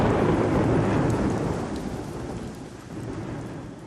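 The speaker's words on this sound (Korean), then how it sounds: "그러고 나서 폭풍이 부는 소리가 들리더니 비와 우박이 뒤섞여 떨어졌다." Thunderstorm with rumbling thunder and rain mixed with hail, a loud steady downpour roar that fades slightly after the first two seconds, with no voices.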